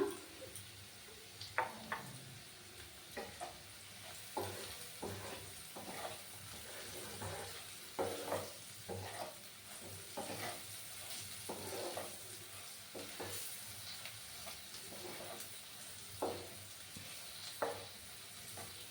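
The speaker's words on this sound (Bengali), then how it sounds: "একটু নাড়াচাড়া করে নেব" Bottle gourd peel mash with chili powder stirred in a pan, soft scraping strokes and light sizzling repeating at an irregular pace, close and quiet throughout.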